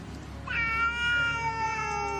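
A cat meows in a drawn-out, tonal call that rises and holds for about two seconds, close and clear over a quiet room background with no talking.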